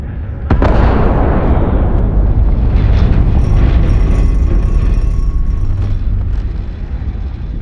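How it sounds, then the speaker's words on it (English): A particle detonation explosion in the game Starfield starts with a sharp crack and becomes a loud, sustained rumbling roar that lasts for several seconds before slowly tapering off. "Detonation occurs in 5, 4, 3, 2, 1."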